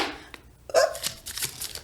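Tarot cards are shuffled by hand close up, a short rapid riffle and flutter of card stock with a few quick slaps, and no one talking.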